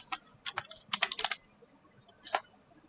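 A command being typed on a computer keyboard, crisp close key clicks in a quick burst of about a dozen strokes, a pause, then a final pair of keystrokes, heard alone in a quiet room.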